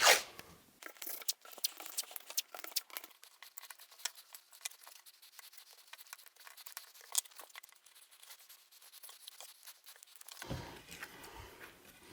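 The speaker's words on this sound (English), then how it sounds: "So I'm just going to do this with blue tape" Blue painter's tape is pulled off a roll and torn in a woodworking shop while a segmented wooden ring is assembled, a series of close crackly ripping and crinkling bursts that trail off into quiet near the end.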